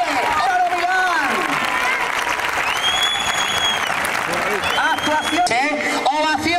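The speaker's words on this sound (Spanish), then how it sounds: "¡Ovación de categoría para ellos!" A crowd at a bull-dodging contest in Aldeamayor de San Martín, Valladolid, gives a loud ovation, with sustained applause mixed with shouts and cheering voices throughout.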